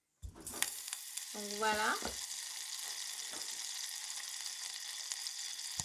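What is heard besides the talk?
butter sizzling in a sauté pan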